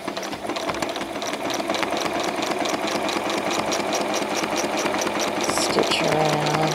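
A sewing machine stitches rapidly during free motion quilting, a steady close mechanical chatter of needle strokes running continuously, with a brief change in tone near the end as the stitching slows.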